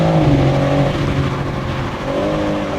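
A BMW M4 Competition M xDrive engine runs steadily with a deep, throaty exhaust note, the pitch shifting slightly as it changes down through the gears, loud and close.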